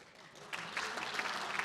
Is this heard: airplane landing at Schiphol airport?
no